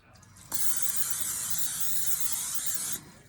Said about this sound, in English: I'm going to spray it with regular pan.